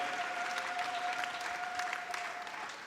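A church congregation claps and applauds at a confession service, a steady, dense wash of hand claps with crowd murmur, slowly easing toward the end.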